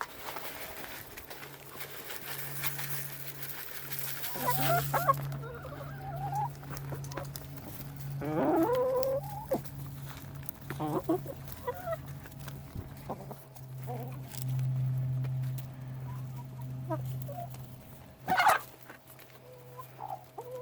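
Backyard chickens cluck in short, scattered bursts over a steady low hum, fairly soft and at a middle distance, with a single sharper knock near the end.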